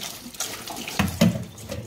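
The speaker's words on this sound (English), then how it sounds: "Wash scallop." Tap water runs and splashes in a sink as a large scallop is rinsed under it, with brief louder splashes midway over a steady close flow.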